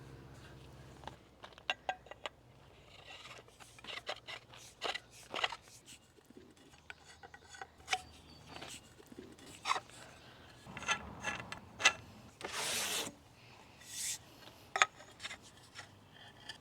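Metal curtain rod sections and finials screwed together by hand, giving a run of soft creaks, scrapes and small clicks at close range with no talking.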